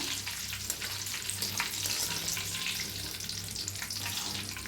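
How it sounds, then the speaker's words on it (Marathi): Curry leaves fry in hot oil for a crispy maize chivda snack, giving a dense, steady sizzle and crackle close up, with no voices. "कढीपत्ता तळताना जरा लांब करा चांगला क्रिस्पी होत तर तळून घ्या"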